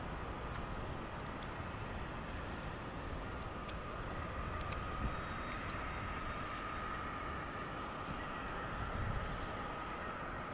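A passenger jet rolls out after landing at Salt Lake City airport, giving a steady, broad engine roar with reverse-thrust rumble that holds an even level throughout, with no voices.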